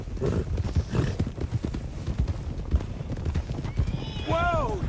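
Steady hoof clip-clops from horses moving along in Red Dead Redemption 2 under ongoing noise and speech, ending with a loud horse whinny near the close.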